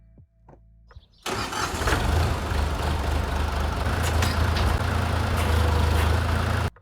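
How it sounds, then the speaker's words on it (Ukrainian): After a few clicks, a tractor's heavy diesel engine turns over and settles into a loud, steady rumbling idle close by, warming up. "трішки тракторець прогріється"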